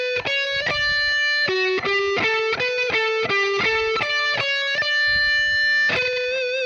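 Distorted electric guitar plays a song's chorus, a run of clear sustained lead notes with a slight pause before a final held bend, loud and alone with no talk.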